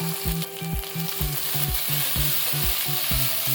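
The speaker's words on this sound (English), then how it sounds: "Fry for 1 more minute and add the finely chopped onion pieces." Finely chopped onion fries with green chillies and ginger for a raw mango fried rice, a constant sizzle with rhythmic low scraping strokes of a spatula against the pan, close and alone without speech.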